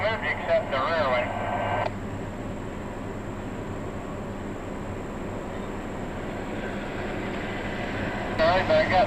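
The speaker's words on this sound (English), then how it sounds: "NS L28, a Middletown to Columbus daily train, heads east." Norfolk Southern L28, a daily Middletown to Columbus freight train, rolls east through a cut near a road overpass. A steady, loud rumble lasts throughout, with horn-like blasts at the start and again near the end.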